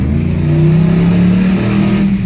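A car's 5.7 HEMI engine, freshly serviced and adjusted, roars loud and close, its pitch climbing steadily as it accelerates.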